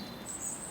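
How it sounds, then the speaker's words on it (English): A brief, thin bird call rings out over the steady wash of heavy rain in a garden near a pond being relined. "Bringing out the birds, you can probably hear them in the background."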